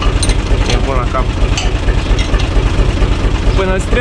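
UTB U445 DT 4x4 tractor with a diesel engine idling while warming up: a steady, loud, low rumble throughout, with someone talking over it.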